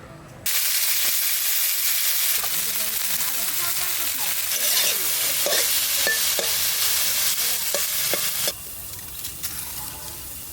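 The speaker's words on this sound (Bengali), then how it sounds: "বরবটি ভাজা হয়ে গেছে, কড়াই ধরে নামাই দেবো।" Long beans frying in a wok, a loud continuous sizzle with scraping stirring strokes and clicks of the utensil against the pan, ending with a slight drop in hiss.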